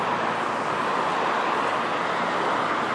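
Steady broadband roar of road traffic heard from close beside the road, loud and continuous with no distinct passes, no one talking.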